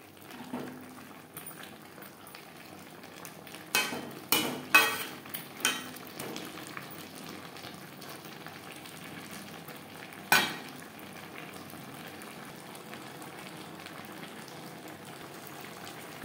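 Malabar spinach and pumpkin cook over a high flame, a faint low bubbling sizzle underlying sparse clanks and scrapes of a utensil, clustered early and then one more later.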